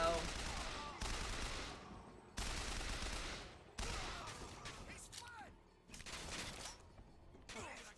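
Bursts of gunfire from the video game Bioshock Infinite, several loud volleys in repeated clusters with short gaps between them, with faint voices now and then.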